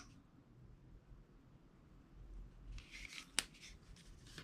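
Scissors snip off excess gold washi tape laid across a notebook, a single sharp cut standing out after quiet rustling of paper and tape.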